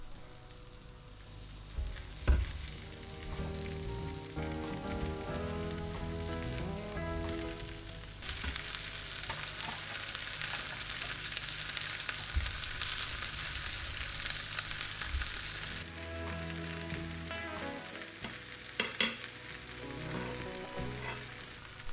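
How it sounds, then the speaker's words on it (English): Continuous sizzling and frying crackle of chicken up close in a pan with rice, with occasional clinks and stirring sounds, no voices. "return the seared chicken to the pan, pushing it into the rice"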